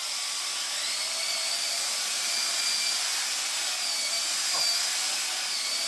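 Cordless Dyson DC35 stick vacuum, a repaired scrap unit, sucking up sawdust from pile carpet: a steady high-pitched motor whine runs throughout, close and loud, with a brief thump of debris near the end.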